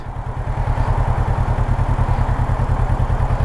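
A 2017 Kawasaki Versys 650 motorcycle engine idles steadily and close by, with a fast, even low-pitched pulsing throb and a light mechanical clatter on top. No one speaks.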